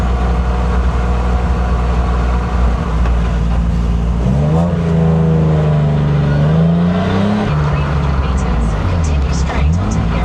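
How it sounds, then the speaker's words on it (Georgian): A loud, tuned 360-horsepower naturally aspirated car engine idling with a rough rumble, then revving up and down in rising and falling pitch sweeps. "მოხედავენ, რომ მანქანა ბგუის"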